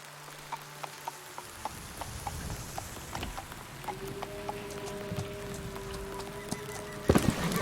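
Steady rain falling on surfaces in the Edgar Allan Poe gamebook The Oval Portrait, a dense patter of scattered drops with a low hum beneath, ending in a sudden louder splash of noise.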